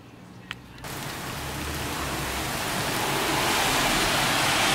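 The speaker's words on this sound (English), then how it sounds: "It is raining." Steady rain hisses in a broad wash of noise that swells gradually louder, after a brief quiet start with a single tap.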